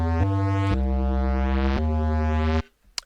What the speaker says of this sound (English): is the actual 808 drum stretched in the Akai and then reversed